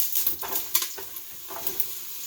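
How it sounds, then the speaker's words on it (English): Mushrooms land in a hot pan with cumin, garlic and habanero pepper, sizzling with clattering utensil taps and a few sharp pops, close and alone without voices. "I'm going to add in the mushrooms"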